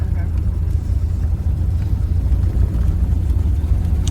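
Model A Ford rolling downhill in third gear, a steady low engine rumble with road noise, close and continuous throughout, with no talking.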